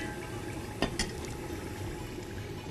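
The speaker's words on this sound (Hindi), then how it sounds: "इसमें पकने की आवाज़ कितनी अच्छी आ रही है ना" Nihari meat simmering in a clay pot gives a steady, soft bubbling hiss, broken by a couple of brief clinks near the start, with no voices.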